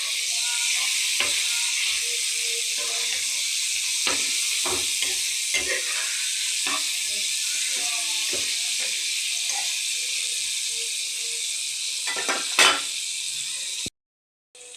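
Paneer and cauliflower sizzle steadily in a hot pan, a continuous close frying hiss with scattered pops and spatters throughout, ending abruptly in silence near the end.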